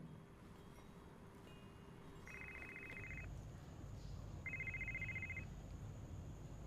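A telephone ringtone sounds in two short electronic bursts separated by a pause, faint over a quiet indoor room hum.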